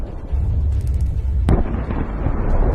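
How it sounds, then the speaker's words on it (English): A sharp explosion bursts out mid-clip amid a continuous low rumble as tank shelling hits armoured personnel carriers, one loud close blast with a rough, noisy aftermath. "One by one, the APCs explode under Ukrainian tank shelling."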